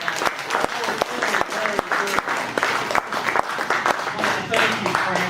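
An audience applauds warmly at a conversation event with an Olympic silver medalist, the clapping steady, dense and close throughout, with a voice speaking over it.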